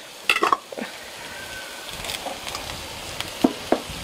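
Beef fry with crushed spices and curry leaves sizzles softly in a pan, with a few sharp clinks and scrapes of stirring breaking through the low, steady frying hiss.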